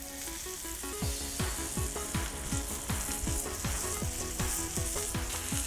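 Ribeye steak sizzling in melted butter on a Cuisinart 360 griddle, a steady loud frying hiss and crackle throughout with no one speaking.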